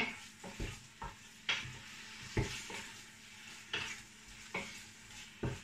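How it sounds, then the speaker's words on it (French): Lamb pieces browning with onions in a pan for a lamb tagine, a steady sizzle broken by repeated stirring scrapes about once a second, close and fairly loud with no talk. "je vais faire revenir avec les oignons"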